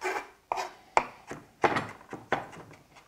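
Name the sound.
knife finely chopping citrus peel into small cubes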